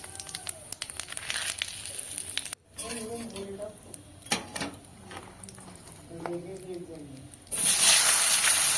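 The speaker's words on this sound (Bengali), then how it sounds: "এই তেলের মধ্যে আমি এখানে জিরে ফোড়ন দিচ্ছি" Cumin seeds and a bay leaf hit hot oil in a pan where fish was just fried, giving a steady close crackling sizzle with short breaks and a surge near the end, while a voice talks over it.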